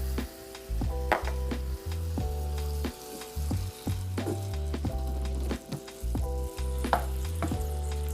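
Teriyaki steak stir-fries on a hibachi with a steady, loud sizzle. Repeated scraping and stirring strokes come through close up.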